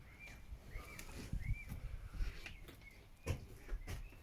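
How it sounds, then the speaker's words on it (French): Birds chirp and sing faintly around a quiet rural hamlet of a few houses, with scattered short calls over a soft, low background rumble and no voices. "si vous entendez les oiseaux"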